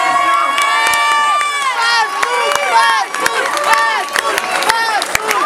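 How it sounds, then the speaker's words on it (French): A cabaret audience cheers and whoops loudly right after a show. Voices and shouts overlap continuously with scattered claps. "On peut les applaudir bien fort."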